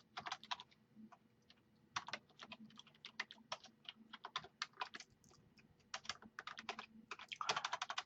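Steady keyboard typing on a computer while a web page is being built, with bursts of quick keystrokes separated by short pauses and a denser flurry near the end, fairly quiet and close with no speech.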